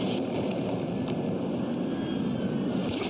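A helicopter in the video game Warzone drones loudly and continuously, a dense rotor-and-engine roar that holds steady throughout with no speech.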